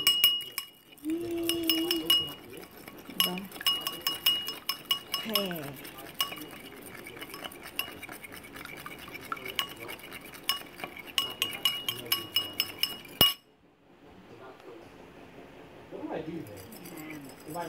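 A utensil stirs an egg mixture in a glass bowl for potato mojos, giving repeated bright clinks and scraping taps against the glass in an irregular rhythm, close up, with people talking at times.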